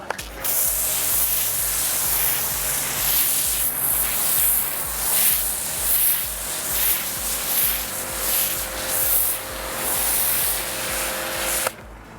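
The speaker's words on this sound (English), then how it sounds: "So just adjust the gun to get your level of foam you want." A foam cannon gun sprays snow foam onto a car in a loud, continuous hiss that lasts about twelve seconds with slight pulsing, then cuts off abruptly near the end, with no voices.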